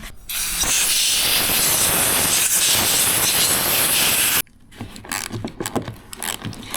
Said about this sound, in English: here I'm gonna put some brake cleaner on it for you